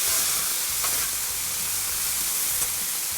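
Loud, steady hissing sizzle of water steaming on a hot Blackstone griddle, continuous throughout with faint scraping underneath.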